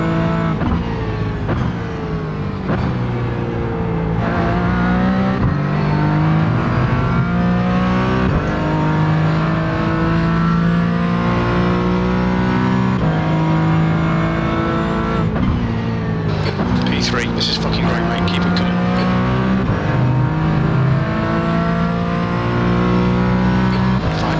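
A GT4 race car engine in the iRacing sim at Oulton Park drones loudly and continuously, rising and falling through gear changes, with a brief burst of high-pitched tire noise near the end.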